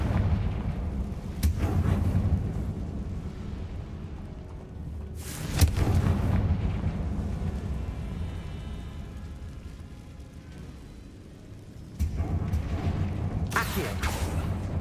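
Booming Confringo spell explosions in the Hogwarts video game, three heavy blasts spaced several seconds apart, each followed by a rumbling decay under ambient game sound.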